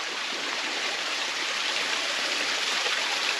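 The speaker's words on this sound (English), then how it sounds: "I hear this creek flowing" Steady rushing of a creek flowing over rocks on the Appalachian Trail in frigid weather, a continuous broadband wash of water close by with no voices.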